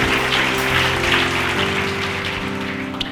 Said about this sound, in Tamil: கைத்தட்டுங்க ஒருத்தவருக்கு.